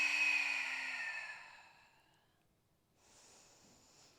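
A long, audible exhale during a Pilates exercise, starting as a voiced, sighing breath that fades away, then a softer airy breath a moment later.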